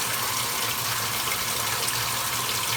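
A 1978 Kenmore washer's porcelain tub filling with water, a steady, close rushing gush of pouring water with a low hum beneath, continuous throughout.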